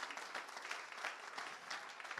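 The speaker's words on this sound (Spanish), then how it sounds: "denle un aplauso al Señor esta hora" A church congregation applauding in praise during an evangelist's sermon, dense sustained clapping from many hands filling the room at steady volume without a break.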